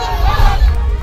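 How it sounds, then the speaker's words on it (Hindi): Rival political party supporters in a dense, loud crowd roar with massed shouting and chanting that fills a brief burst, with no distinct clapping standing out. "बीजेपी वाले नारे लगा रहे थे तो टीएमसी वाले ताली"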